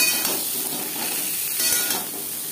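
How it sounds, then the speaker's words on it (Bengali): Pointed gourd being tossed with salt and turmeric in a hot frying pan, a continuous soft sizzle and hiss with a brief swell of stirring near the middle, heard close and without voices. "লবণ হলুদ পটলের সাথে বেশ ভালো করে মিক্স করে দেব।"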